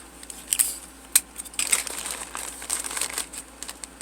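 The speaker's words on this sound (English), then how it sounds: "I'm going to tape this bag to itself" A paper bag crinkles and rustles up close while tape is pressed onto it, irregular crackly bursts of handling with no talking.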